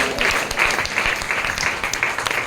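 A church congregation claps at a healing and anointing prayer service, giving a steady, dense wash of applause that fills the whole stretch at an even loudness.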